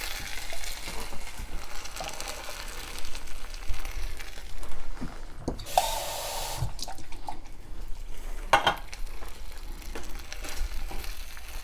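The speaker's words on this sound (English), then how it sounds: "Then I'm going to top this off with water." Tap water runs into a pot holding beans for habichuelas, a steady broadband rush with splashing across the whole stretch, a louder burst of flow midway, and no talk.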